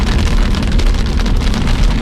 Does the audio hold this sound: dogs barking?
no